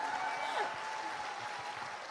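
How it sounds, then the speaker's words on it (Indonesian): Audience applause at a corporate success academy seminar in Indonesia, a steady wash of clapping from a large crowd that stays even in level across the whole stretch. "Berikan tepuk tangannya."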